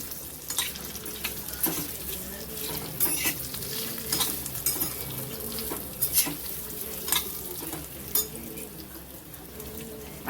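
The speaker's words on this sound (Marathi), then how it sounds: "ही मुटकी आपल्याला याच्यात घालायची आहे आणि छान अशी खरपूस भाजून घ्यायची आहे" Colocasia leaf rolls (mutki) sizzle in a pan as they roast until crisp, with repeated scraping and stirring clinks of a utensil against the metal, close up.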